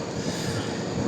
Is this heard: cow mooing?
no